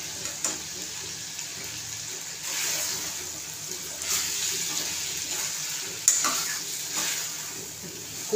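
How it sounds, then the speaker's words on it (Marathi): Onion and cauliflower fry in hot oil for a cauliflower-potato curry while being stirred, giving a steady close sizzle with periodic louder scraping stirs and no talking. "कांदा फ्लावर जरा चांगला परतलाय"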